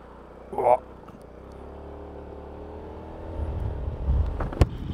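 A Piaggio Beverly 350 scooter engine hums low and steady while riding, rising toward the end as it accelerates, with a brief voice near the start.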